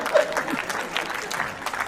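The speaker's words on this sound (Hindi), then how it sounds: "देखिए आपने ताली बजाई भावुकता में आकर" Audience clapping at a Hindi comedy poetry (kavi sammelan) show, a short burst of steady applause from a crowd under a faint voice.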